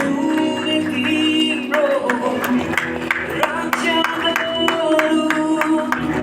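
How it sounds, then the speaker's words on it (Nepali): A congregation at a church service claps along in a steady rhythmic beat, many hands together over music with sustained tones, moderately loud and continuous. "हामी ताली बजाउनेछौँ यस समय।"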